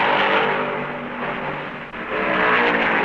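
Stock car engines roaring at the 1970 NASCAR Southern 500, a loud continuous drone that dips briefly near the middle before surging back, heavy and steady with no voices.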